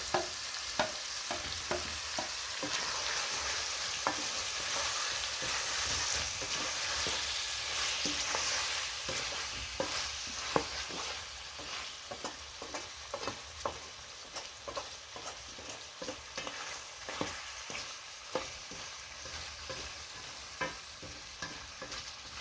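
Beef stew ingredients are added to a hot pot and stirred, giving a steady sizzle broken by repeated sharp clanks and scrapes of a utensil against the pot, close and continuous without any talking.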